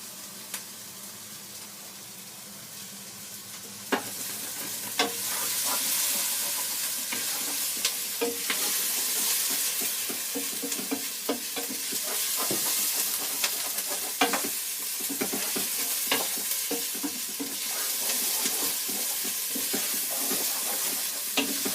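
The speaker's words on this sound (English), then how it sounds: "you want to stir it constantly because you don't want the onions to brown" Onions sauté in a pan for Thai green chicken curry while a spoon stirs them, a steady close sizzle broken by repeated scraping clicks against the pan, with no talking.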